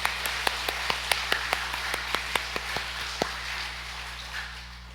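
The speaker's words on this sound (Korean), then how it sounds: "우리 하나님께 영광의 박수 올려드리겠습니다" A church congregation claps a sparse string of separate, sharp claps over a steady low hum, a dozen or so irregular hits that thin out after a few seconds.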